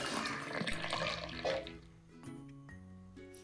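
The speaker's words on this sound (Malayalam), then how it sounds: "ഞാനൊരു ഗ്ലാസ്സിലേക്ക് ഒഴിക്കാം." Masala chai pours into a glass with a brief liquid splash and trickle at the start, then the sound thins out into quiet clinks and near silence.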